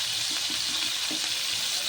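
Egg curry with crisp fried netthallu (dried anchovies) and curry leaves frying in a pan, a steady close hiss of oil with faint soft bubbling pops and no talk.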